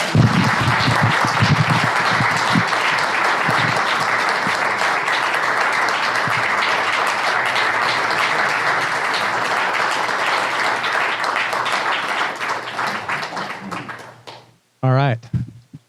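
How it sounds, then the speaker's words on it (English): An audience at a civic integrity award presentation claps loudly and continuously for about fourteen seconds, the applause thinning and fading out before a brief burst of voice at the end. "give him a big hand of applause"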